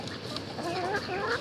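Chickens cluck steadily near a backyard pool, close and continuous, with several overlapping calls and no talking.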